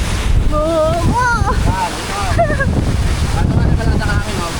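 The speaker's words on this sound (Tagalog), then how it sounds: "Ang lakas ng hangin!" Strong wind at Hulugan Falls in Laguna buffets the microphone in a loud, steady roaring rush while people talk and exclaim over it.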